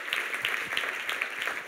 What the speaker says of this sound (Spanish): Le da ese aplauso fuerte al Señor